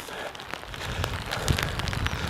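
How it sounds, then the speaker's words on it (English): Steady rain falls during a countryside walk near Stonehenge, a dense continuous patter of drops with scattered sharper taps close by and no talking. "I hope you've enjoyed this walk in the rain"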